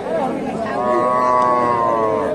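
A native cow moos loudly and close by in one long, drawn-out call at a cattle market in Dakumara, Bogura, Bangladesh, with faint background chatter.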